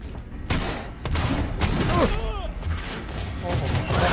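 Sharp bursts of gunfire in the video game Alien: Isolation, several loud shots in quick succession with a voice talking over them.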